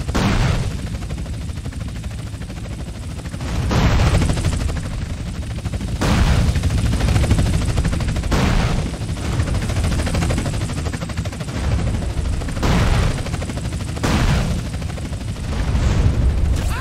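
Sustained gunfire in GTA San Andreas Definitive Edition as helicopters are shot down, loud rattling bursts mixed with booms and blasts that surge repeatedly over a constant rumble.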